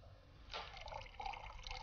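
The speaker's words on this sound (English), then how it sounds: "let's see what happens when I pour the liquid from this beaker into this one." Liquid poured from one laboratory beaker into another during a colour-changing chemistry demonstration, a faint, steady splashing trickle that starts about a third of the way in and continues to the end.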